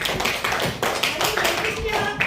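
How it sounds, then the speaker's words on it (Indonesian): Classroom clapping for a group of elementary students, a loud ragged burst of hands from many children, mixed with voices talking. "Tepuk tangan untuk kelompok nasionalis."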